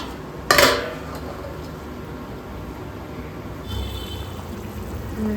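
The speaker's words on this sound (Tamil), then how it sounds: "இப்போ வந்து தட்டு போட்டு மூடிடலாம்" A single sharp metallic clink early on as a plate is set as a lid onto a pot of boiling green turkey berry curry, followed by a quiet room hum and faint clatter.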